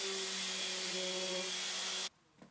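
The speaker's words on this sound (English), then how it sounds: "I can give it a sand down on the outside, but not in the actual dished bit" An electric sander runs steadily on the outside of a hand-carved wooden bowl, a loud, even whirring hum with a tonal whine that cuts off abruptly near the end, leaving a faint soft knock.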